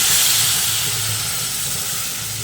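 Water hitting frying beetroot and carrot in a hot pan for a curry, a loud, steady steaming hiss that fades only slightly.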